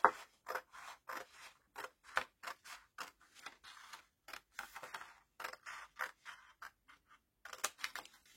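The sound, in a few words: scissors cutting the first three strips of paper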